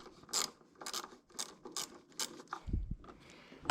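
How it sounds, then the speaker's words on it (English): A 7/16 socket ratchet loosens the two bolts holding the intake to the carburetor on a John Deere LA110 lawn tractor. Close, crisp bursts of rapid clicking repeat at a steady pace, ending with a low thump. "we'll take these 2 bolts off, which are holding the intake to the carburetor, and they're held on by a 7/16 socket"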